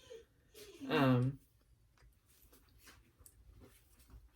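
An old dog lets out a single short, high whimper, close and fairly clear, followed by faint rustling and breathing in a quiet room.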